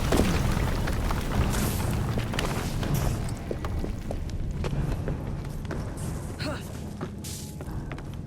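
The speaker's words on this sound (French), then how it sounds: "C'était quoi cette explosion?" An explosion in the Victorian London game Assassin's Creed Syndicate, heard as heavy booming thuds and crashing debris over a dense rumbling bed, loud and close, with scattered impacts trailing off.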